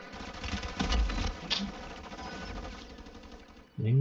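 Rapid automatic gunfire crackles in the Warzone 3 Plunder game mode, a dense burst for a few seconds that thins out before a voice cuts in at the end.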